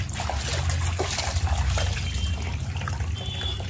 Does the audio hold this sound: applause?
no